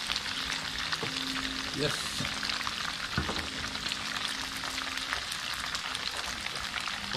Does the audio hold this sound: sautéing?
yes